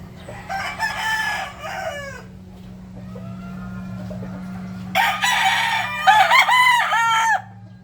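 Gamefowl rooster of a Maclean hatch crowing loudly and close, two long cock-a-doodle-doo calls separated by a quieter stretch, with a steady low hum underneath.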